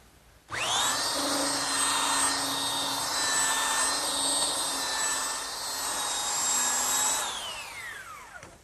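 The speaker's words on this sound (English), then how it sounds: "now I'm using my belt sander to remove any of the imperfections left by the saw blade and smooth out the post" A belt sander smooths a wooden bed post, starting abruptly and running as a loud, steady high-pitched whine with a rough grinding texture, then spinning down at the end; no talking.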